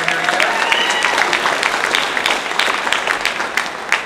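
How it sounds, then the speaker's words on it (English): An audience at an Ignite Tampa event bursts into sustained applause, a dense, steady wash of many hands clapping that fills the room for the full stretch without letting up. "let's give them an applause."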